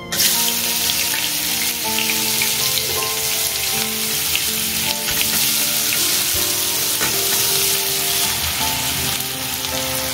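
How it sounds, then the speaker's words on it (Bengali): Onions fry in oil with nigella seeds, producing a loud, continuous, close sizzle with crackling spatters and a faint sustained tonal hum beneath it. "কালো জিরা ফোড়ন দিয়ে পেঁয়াজ আর কি ভেজে নেবো।"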